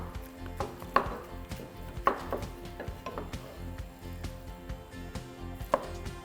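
Minced meat frying in a pan for a gluten- and dairy-free shepherd's pie, broken up with two wooden spoons: irregular close knocks and scrapes of wood against meat and pan over a low sizzle, no voices.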